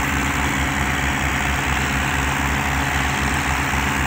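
A Ford 4600 tractor engine idles steadily, a loud, close diesel rumble with an even low throb and vibration throughout, with no voices.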